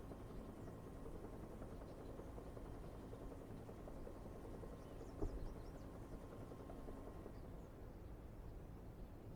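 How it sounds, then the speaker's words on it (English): A helicopter drones faintly in the distance in the PC adventure game Secret Files Tunguska, a low steady rotor hum with one brief thump midway and no speech. "Is that a chopper? Can you guys hear that? There's a chopper going on."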